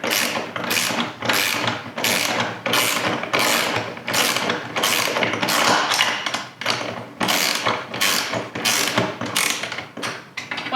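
Ratchet wrench tightening bolts on the ladder of a Cascadia Vehicle Tents Summit Line roof-top tent, with rapid, loud bursts of clicking pawl strokes repeating steadily, close up and without talk.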